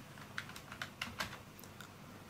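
Short, quiet run of keystrokes on a computer keyboard while a password is entered, a few distinct clicks then a softer patter, with no voices.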